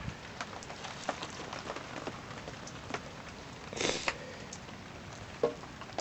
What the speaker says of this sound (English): it's just constantly for hours upon hours, just heavy rain